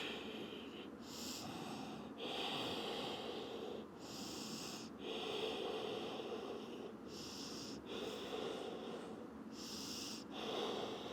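Slow, deep breathing in a yoga forward fold, with about five long, audible inhales and exhales alternating in a steady rhythm, close and fairly soft.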